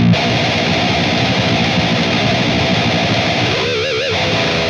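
Heavily distorted electric guitar through an amp simulator plays a sustained, dense chord with a wavering, modulated tail near the end; loud and saturated.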